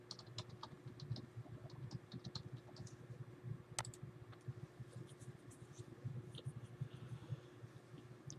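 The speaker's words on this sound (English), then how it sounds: "I will type in my password" Rapid, uneven clicking of keys on a computer keyboard while a password is typed, a steady run of light taps at close range over a low background hum.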